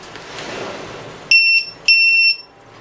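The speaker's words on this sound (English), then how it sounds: "I set the minimum voltage for alarm is" A battery low-voltage alarm buzzer set to trigger at 3.7 volts gives two loud, shrill electronic beeps in quick succession after a stretch of faint background noise.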